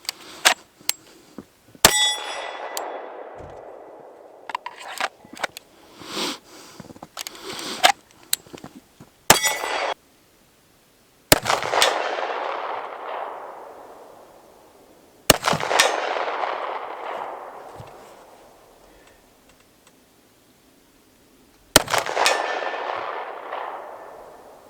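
Springfield 1911 Ronin 10mm pistol fired at steel targets, with sharp shots in a quick irregular string, then several single spaced shots, each followed by a bright metallic ring that fades slowly outdoors.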